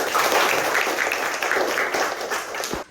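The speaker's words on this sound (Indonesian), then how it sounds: "Tepuk tangan dulu untuk kita semua." Classroom applause from a fourth-grade class, a dense burst of clapping from many hands lasting a few seconds and then stopping abruptly.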